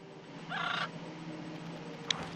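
In Little Witch in the Woods, the Gaga bird lets out one short, grating, turkey-like squawk over looping background music, followed later by a brief sharp click.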